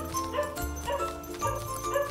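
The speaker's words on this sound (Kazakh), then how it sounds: "Ит." A dog yips and whimpers in short bursts across a couple of seconds, fairly close and clear, with no talk over it.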